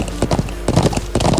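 Horse hooves clip-clop in quick, loud, close-up rhythmic steps in Trails of Cold Steel, a steady trotting beat with faint game sounds beneath.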